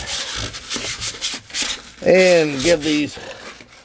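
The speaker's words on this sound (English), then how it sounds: "Now I'm going to do the only hand sanding that I intend to do, which is take a bit of 320 grit" An aluminum wheel rim is hand sanded with 320 grit sandpaper, a close, rhythmic scratchy rubbing in quick repeated strokes that continues under a man's speech.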